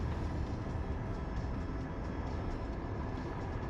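A steady, loud rumble of a Finnish Arctic night train rolling along, a dense continuous roar with no voices.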